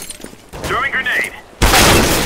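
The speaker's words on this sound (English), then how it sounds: "Throwing grenade!" A grenade blast in Counter-Strike: Global Offensive on a motel hostage map erupts loud and sustained right after a player's voice, a sudden burst of roaring noise that holds to the end.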